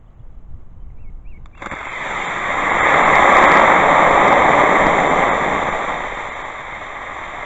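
A KNO3 E45 solid rocket motor ignites after a quiet outdoor pause and roars with a loud, steady, broad hiss. The roar swells to a peak midway and then fades slightly as the burn continues.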